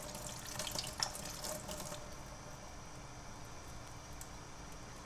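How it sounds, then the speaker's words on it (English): Cold tap water runs steadily into a kitchen sink during shrimp prep, louder and splashier for the first two seconds, then settling into a softer, even stream with no voices. "I'm going to run some cold water to kind of help it out"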